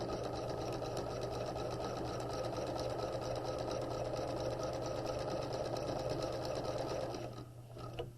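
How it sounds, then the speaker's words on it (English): A sewing machine runs steadily, stitching bias tape onto fabric along the fold, its even mechanical whir continuing for several seconds before slowing near the end; quiet and close, with no talking. "We're going to stitch across, sewing the bias tape to the fabric in the fold of the bias tape."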